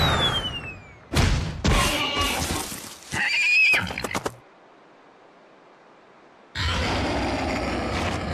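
A horse in a video game whinnies loudly up close, a long wavering neigh with snorts and grunts, followed by silence and then steady background noise.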